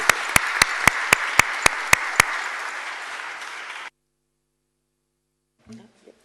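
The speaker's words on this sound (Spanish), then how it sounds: "un aplauso nuevamente para la presidenta." Applause during a Senate commission session, a steady roll of many hands clapping with a series of sharp, regular clicks on top, ending abruptly in silence, followed by a faint brief sound.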